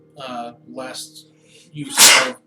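A loud, sharp sneeze bursts out right after a short bit of speech, close to the microphone.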